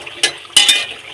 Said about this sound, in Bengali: বড়িগুলো ভাজা হয়ে গেছে, তো তুলে ফেলো